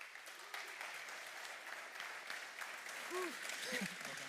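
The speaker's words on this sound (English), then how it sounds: "give a big warm round of applause to our panel" Steady applause from an audience continues throughout, fairly distant, with a few faint voices rising near the end.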